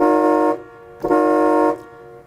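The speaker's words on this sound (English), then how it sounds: "I'll start with the horn." Horn of a 1977 Cadillac blares twice, loud and close: a half-second honk, a short pause, then a longer blast of about 0.7 seconds.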